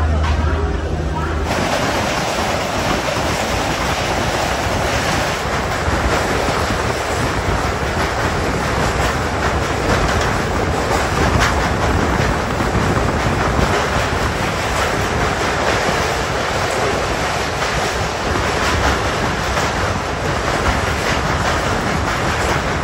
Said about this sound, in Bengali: ভুবনেশ্বর ছাড়ার পর তো ট্রেন মোটামুটি ভালোই টানছে